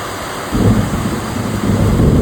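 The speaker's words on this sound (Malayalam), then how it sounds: "ചോറൊക്കെ കഴിച്ച് കഴിഞ്ഞപ്പോൾ തന്നെ നല്ല ഇടിയും മഴയും മിന്നലും ഒക്കെ ഉണ്ടായിരുന്നു" Heavy rain with rumbling thunder on a rainy afternoon, a low broadband roar that swells loudly after a quiet start and stays steady and close, with no voices.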